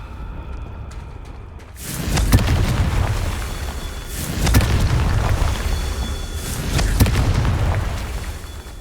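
Three deep, booming blasting-spell explosions from Confringo in Hogwarts Legacy, each a loud burst that rolls off slowly, spaced a couple of seconds apart.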